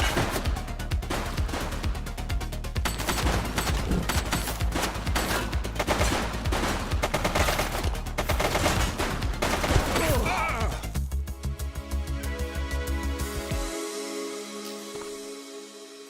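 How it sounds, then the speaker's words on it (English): Rapid, loud gunfire from a shooter in the police video game The Precinct, a dense volley of overlapping shots for about ten seconds before it thins out and fades into quieter background sound. "He's shooting!"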